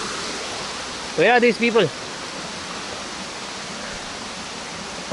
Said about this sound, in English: this is the falls